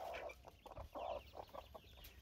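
Tiger chickens in a coop give soft, irregular clucks close by, one bird after another, against a quiet background.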